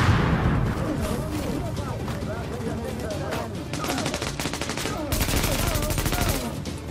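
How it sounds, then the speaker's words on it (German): Dense gunfire from The Division on PS4, with rapid bursts and volleys crackling loudly throughout, thickening into sustained automatic fire near the end. "wo hier überall Schüsse herkommen"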